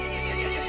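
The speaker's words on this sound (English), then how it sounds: "The horse grew angry and summoned the other monsters." A horse gives a short, loud whinny in the Resident Evil Village video game, a brief strained neigh heard close up without speech.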